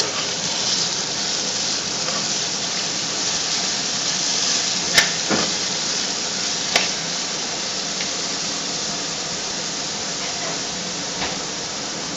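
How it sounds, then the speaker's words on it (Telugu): Curry leaves drop into hot oil for an amla pulihora tempering, giving a continuous hissing sizzle with a couple of sharp crackles and pops partway through, fairly loud and steady, with no voices. "కరివేపాకు వేస్తాను అన్నమాట"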